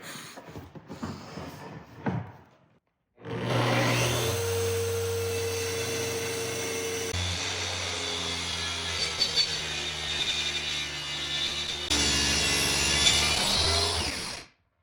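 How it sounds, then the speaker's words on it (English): A track saw cuts through a butcher block wood countertop, its motor whining loud and steady for about eleven seconds after a short burst of handling noise, with the pitch shifting partway through the cut before it spins down and stops. "So we made our cut with the track saw"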